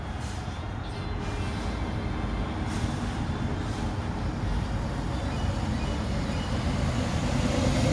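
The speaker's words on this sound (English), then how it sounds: "I'm outside recording if you hear cars driving by." Outdoor traffic noise with cars driving by, a dense continuous road rumble and hiss throughout, fairly loud and steady with no talk.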